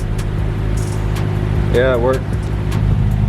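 A manual BMW M6 Gran Coupe with a straight-piped exhaust idles as its valves open by remote, a steady, deep, near rumble with a person briefly talking over it.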